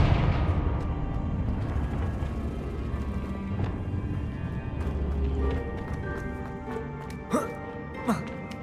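A Confringo blasting spell cast in Hogwarts Legacy, a steady rumbling roar of fiery energy that fills most of the clip, capped by two sharp bursts near the end.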